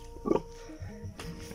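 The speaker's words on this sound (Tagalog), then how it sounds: "Ayan yung baboy na isa." A pig lying down on a rural Filipino farm gives a short, close grunt followed by a few quieter snuffling grunts.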